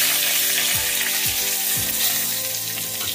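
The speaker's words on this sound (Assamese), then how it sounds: "শুকান জলকীয়া দিছোঁ লগতে ইয়াত তেজপাত এটা দিছোঁ" Dried chillies and a bay leaf frying in oil, a loud, dense, continuous crackling hiss close up, with a few low knocks underneath and no speech.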